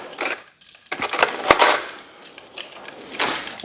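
A metal spoon is picked up in a home kitchen while making chicken Parmesan sliders, giving several light, close clinks and taps against dishes and utensils.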